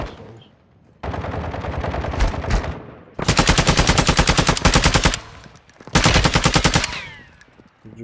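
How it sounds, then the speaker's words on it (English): Bursts of rapid automatic gunfire in a video game, fired through windows, come as a long sustained burst followed by a second shorter one. The shots are loud and close, and no one talks. "I'm shooting through the windows"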